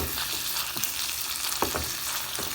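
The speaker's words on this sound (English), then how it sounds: "I'm gonna let it start to melt in there." Butter melting in a pan for a spaghetti sauce, a steady bright sizzle with soft crackles and occasional stirring scrapes throughout, close and continuous with no voices.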